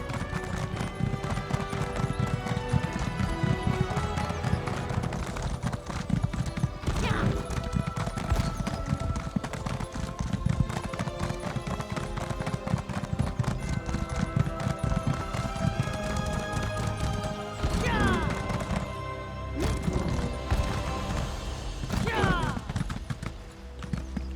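Horse hooves gallop in a steady, rapid clip-clop while riding in the video game Elder Scrolls Online, set in High Isle, with loud, continuous music and game ambience throughout.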